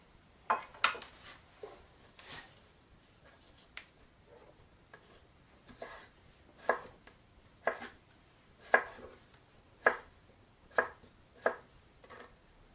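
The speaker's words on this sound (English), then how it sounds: "Now we'll take these pieces and just slice them very thin" Knife slicing daikon radish very thin on a cutting board, a series of crisp, evenly spaced chops that start irregular and settle into a steady rhythm, close and fairly quiet with no talk.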